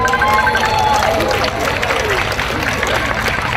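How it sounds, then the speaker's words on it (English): An audience at a Western Australian Tết fair in 2024 claps during the speeches, a steady, dense patter of applause mixed with voices and a faint tonal background. "Give yourself a big clap."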